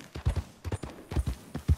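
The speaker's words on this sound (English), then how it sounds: "This is a pretty good little horse." Horse hooves clip-clop in the video game Red Dead Redemption 2, a steady walking rhythm of soft, close thuds in pairs, with no talking over them.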